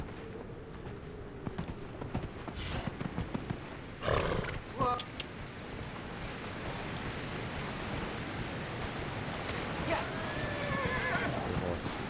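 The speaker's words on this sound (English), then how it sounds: "Good horse." A horse neighs and whinnies in the game Dragon Age: Inquisition, over hoof clip-clops and ongoing game background sound, with a voice speaking partway through.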